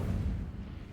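Incendio fire spell cast in Hogwarts Legacy, a brief dense low rumbling burst that holds steady for about a second, loud and close, with no talk over it.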